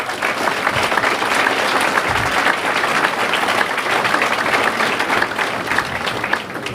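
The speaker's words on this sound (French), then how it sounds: "je pense qu'on peut les applaudir également" At a town mayor's New Year ceremony the audience applauds the local music society with loud, sustained clapping that stays even and full throughout, with no one speaking.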